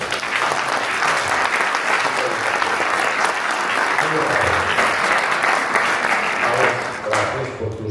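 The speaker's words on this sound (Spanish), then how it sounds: "otro aplauso." Sustained applause from a lecture audience fills the hall, dense and steady throughout before tapering slightly near the end, with some murmuring mixed in.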